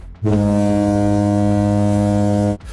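A single deep foghorn blast, loud and steady, holding for over two seconds before cutting off abruptly.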